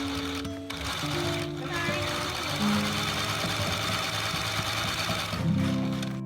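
A sewing machine runs steadily while stitching separate shoe parts, a continuous close mechanical whir and hum with a brief stop near the start and a change of pitch toward the end.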